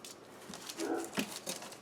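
Dogs whimpering and grumbling at each other indoors, a few short whiny yelps and whines over about two seconds, fairly faint and close.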